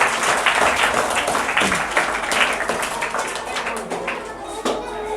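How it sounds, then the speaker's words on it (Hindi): Audience applause at a Teachers' Day celebration, a steady wash of clapping with scattered sharper claps that runs throughout, with a voice partly audible under it. "उनके लिए एक बार जोरदार ताली से उनका स्वागत है"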